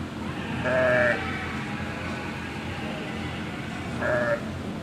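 Sheep bleat twice in a birthing barn, a ewe with her newborn lamb, each call a short wavering cry about a second long, separated by a few seconds of quiet barn ambience with a steady low hum.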